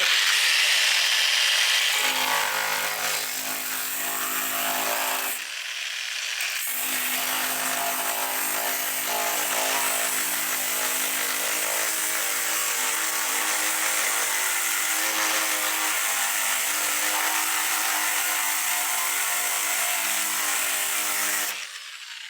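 An angle grinder cuts along a weld on a rusty Holden HK/HT/HG front guard, a loud continuous harsh grinding whine that briefly stops and restarts, close up with no talk.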